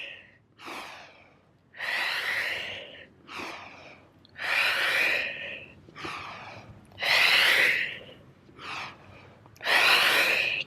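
Strong rhythmic breaths from someone doing a Pilates rocking exercise while holding the ankles, a series of loud inhales and exhales in a steady cycle, close to the listener.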